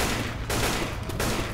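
Rapid, loud shotgun blasts ring out in Left 4 Dead 2, a couple of sharp bursts over a dense, constant din of gunfire and game noise.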